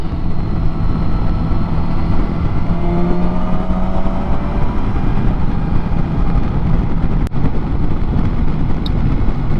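Kawasaki Versys 1000 SE motorcycle riding on a highway, a loud steady engine and wind roar with a faint rising whine, no talking.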